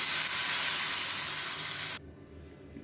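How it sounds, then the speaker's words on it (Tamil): Mustard seeds, urad dal, curry leaves and asafoetida hit hot oil for a South Indian tempering, giving a loud, steady hissing sizzle that cuts off abruptly to near silence. "இப்போ இதில் எப்பயும் தாளிக்கிற மாதிரி கடுகு, உளுந்து, கருவேப்பிலை, கொஞ்சம் பெருங்காயம் போடுறது சேர்த்துக்கலாம்."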